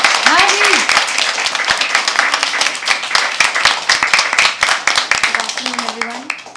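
Audience applause and clapping at a live poetry open mic as a first-time performer comes to the stage, dense and sustained throughout, with voices calling out over it.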